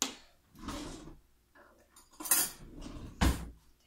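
A metal spoon clinks and scrapes against a pot while hot process soap is worked down with a stick blender setup, with several separate bursts of clattering and no talk.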